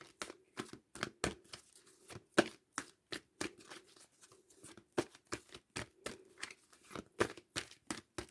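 Tarot cards being shuffled and handled during a reading, a steady series of crisp, papery slaps and riffles in irregular bursts, close and moderately loud with no voices.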